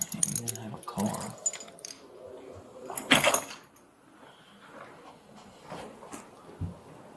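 Keys jangle in short bursts near the start and again around the middle, mixed with clinks and knocks, with people talking over and between the sounds.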